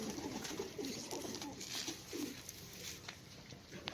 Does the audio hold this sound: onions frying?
no